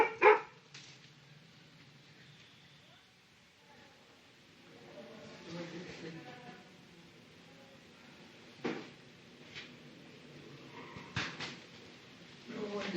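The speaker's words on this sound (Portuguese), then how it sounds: "cachorro." A dog barks a few times, scattered sharp yaps spread across a quiet stretch with faint background noise and occasional soft knocks.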